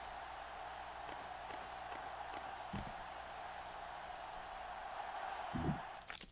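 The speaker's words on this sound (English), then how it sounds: "Ooh, got a lot of rain." Steady, even hiss of heavy rain falling on a stadium in the NCAA 06 college football video game, constant throughout with a few soft thumps underneath.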